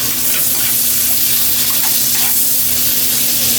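Onion and chili sizzle loudly in a hot frying pan, a steady dense hiss that fills the short stretch without pause and with no voices over it.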